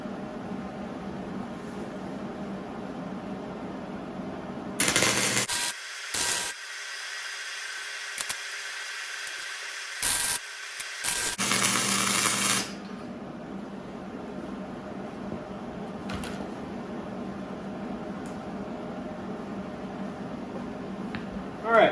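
Flux-core wire MIG welding tacks on a steel ripper shank: a few bursts of harsh crackling sizzle, one longer spell of several seconds, set between quieter stretches of workshop hum.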